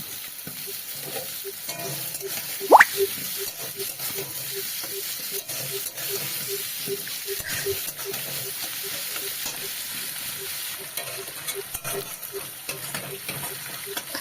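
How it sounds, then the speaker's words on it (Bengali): Onions fry in oil in a wok, with a constant close sizzle and hiss, a faint rhythmic ticking underneath, and a sharp clank near the start. "আমি সেই পেঁয়াজটা এই কড়াইতে ভেজে নেব"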